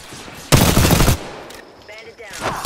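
A loud, close burst of rapid automatic gunfire in an Apex Legends match rattles for about half a second, followed by quieter scattered shots and game sounds in the background.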